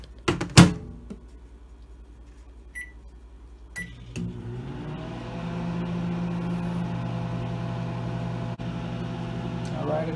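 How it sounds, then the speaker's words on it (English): A microwave oven heating popcorn in a paper cup with a plastic lid: a door clunk and button beeps, then the steady hum of the running oven droning on at moderate level. "I'll throw it in the microwave and give it 2 minutes."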